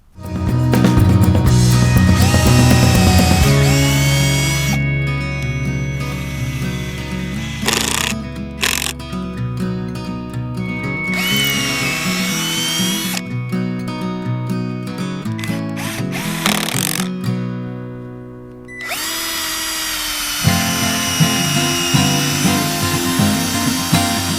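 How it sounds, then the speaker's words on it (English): A power drill bores a pilot hole into a wooden board, whining loudly and steadily up close, then bogging down and cutting out in short bursts before spinning up again near the end. "How about a pilot hole in that board?"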